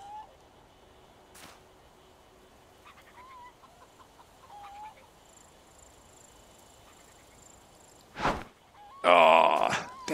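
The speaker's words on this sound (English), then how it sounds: "Friggin' chicken." Chicken in a survival video game, with a few faint clucks scattered under quiet background noise, then a couple of louder bursts near the end.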